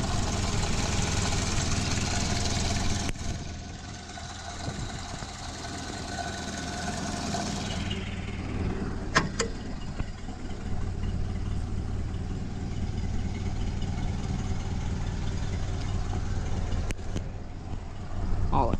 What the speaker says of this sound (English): You can hear the carburetor. Makes quite the noise.